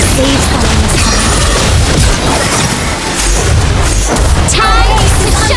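A turret in a mobile battle arena game is destroyed with loud booming blasts and crashing impacts, a dense, continuous barrage of game effects throughout.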